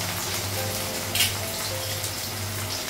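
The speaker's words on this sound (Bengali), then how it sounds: "আলুটা পেঁয়াজটা ভাজা হয়ে গেছে" Potatoes and onions fry in a pan with a loud, constant sizzle close by, a dense crackling hiss that holds steady from start to finish.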